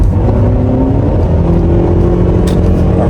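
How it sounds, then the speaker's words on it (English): A car with 139,000 miles on a test drive accelerating up to speed, with a loud continuous engine drone and road rumble heard from inside the cabin, the pitch holding steady and smooth. "bringing the car up to speed"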